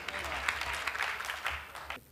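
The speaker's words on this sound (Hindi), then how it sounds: "जोरदार तालियों से बलजीत कौर तन्हा जी को सुन।" Audience applause at a comedy show of husband-and-wife jokes, a steady, fairly soft wash of clapping with a low hum underneath, cutting off abruptly at the end.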